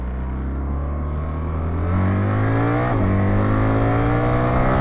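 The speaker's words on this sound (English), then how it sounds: "There's just so much pull from this engine, just unbelievable torque." A BMW R1300GS motorcycle engine accelerating hard on the road, a loud, steady, close droning roar whose pitch climbs through the gears with one brief shift dip midway, no talking.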